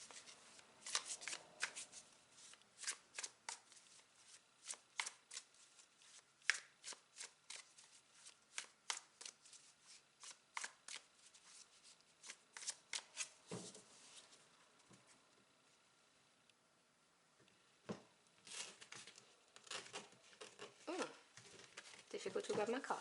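Tarot cards being shuffled by hand, a long run of quick crisp riffling bursts in close succession, a short pause midway, then more shuffling, near and clear with no talking over it.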